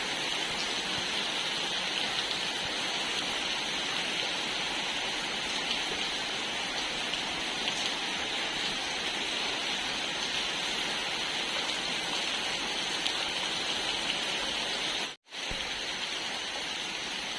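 Steady rain falls in a constant dense hiss of drops on surfaces during a rainy afternoon at home, unbroken except for a momentary dropout near the end.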